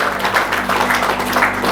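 A church congregation clapping loudly during a sermon on praise, a brief burst of dense, even applause close by.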